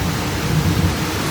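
Heavy downpour of rain during a midday storm, heard from a balcony as a steady broadband wash with a low rumble underneath, no voices.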